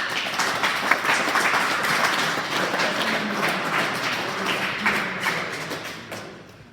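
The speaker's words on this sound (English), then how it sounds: "Let's give all those" At a high school wrestling awards event, the audience applauds the wrestlers with a steady crowd clapping that holds for several seconds and then tapers off toward the end.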